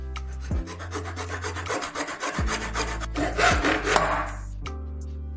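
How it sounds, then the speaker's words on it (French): A hand saw cutting through a tube guided by a line of tape, rough back-and-forth rasping strokes with brief pauses between, close and fairly loud, with tonal music underneath. "Utilisez la ligne de ruban comme guide pour la scie."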